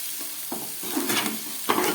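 A paste of onion, ginger and garlic spices fries on low gas in a pan, soft continuous sizzling broken by a few sharp scraping stirs, close and without any talk.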